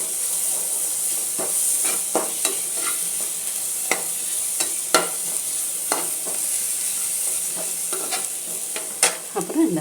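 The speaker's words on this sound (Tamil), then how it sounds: "இதையும் கொஞ்சம் நல்லா வதக்கிடுவோம்." Ground paste sautéing in a pan for peas pulao, a steady hiss and sizzle with scattered sharp crackles and spoon-stirring scrapes throughout, close and with no voices.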